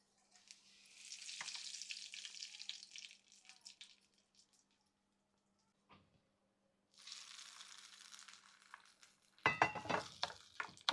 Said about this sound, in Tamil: கடுகுக்கு அப்புறம் கொஞ்சோண்டு கருவேப்பிலை போட்டுக்கிறேன்.